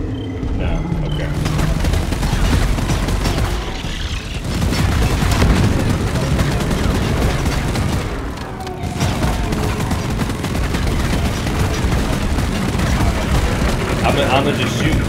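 Sustained gunfire in a video game, with dense rapid shots and booming explosions going almost nonstop. A player talks over the din, and there is a brief lull partway through.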